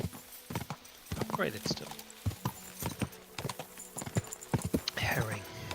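A horse's hooves clip-clop steadily in the medieval role-playing game Kingdom Come Deliverance 2, crisp rhythmic footfalls under someone talking, with a brief whinny-like sound mixed in.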